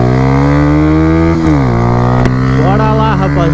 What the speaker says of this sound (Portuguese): Olha, a motinha já sai até melhor, mano.